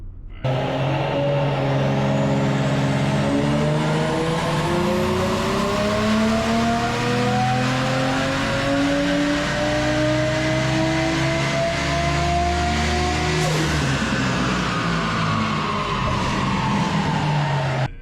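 A 1JZ-powered Toyota Soarer JZZ30 street car, tuned to about 300 kW at the wheels on a Haltech Nexus S3, revs loud and close: a steady engine drone climbs in pitch for some thirteen seconds, then drops sharply as the throttle closes.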